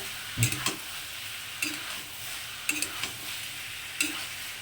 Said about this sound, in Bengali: এটাতে এখন দু মিনিট এটার সঙ্গে একটু ভাজা ভাজা করবো